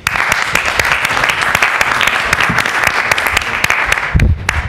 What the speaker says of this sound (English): So join me in giving Alexandre an applause.